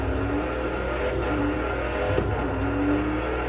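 A Ford Raptor pickup truck in a racing video game: continuous engine drone revving up and down, close and fairly steady with small pitch changes throughout.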